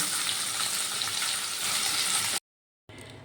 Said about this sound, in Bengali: বাকি পনিরগুলোও আমি একই রকমভাবে ভেজে নেব